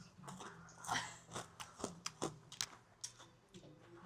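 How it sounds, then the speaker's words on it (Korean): Crunchy bites and chewing of a homemade treat, a quick run of sharp, close crackling crunches at an uneven rhythm with no talking. "제가 한번 먹어보도록 할게요"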